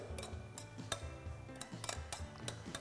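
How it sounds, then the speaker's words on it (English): Tongs stir a vegetable mixture in a bowl, giving light clinks and ticks of metal against the dish that fall in an irregular, close-up rhythm. There is no talking. "Finally, last, grab our tongs. We're going to stir this together."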